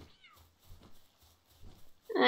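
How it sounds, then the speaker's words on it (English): In the Palworld video game, a cat meows once near the end, loud and close, after a stretch of faint rustling and low thuds. "I do not want to know what that meowing is about."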